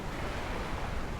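Waves lap on the water at Miami Beach with a steady, close, unbroken wash of surf and no voices.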